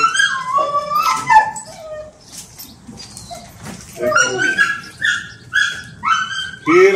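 Šarplaninac dogs bark, yip and whimper in high, drawn-out whines, several overlapping calls rising and falling near the listener, with a short quieter gap midway before the whining resumes.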